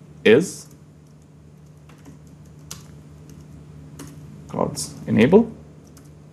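Code is typed on a computer keyboard as scattered, light key clicks between and under a man's speech, fairly close but quieter than his voice.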